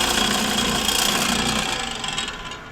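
Coffee beans run through a coffee grinder in a continuous, loud, gritty whir that tapers off slightly near the end, with no voices.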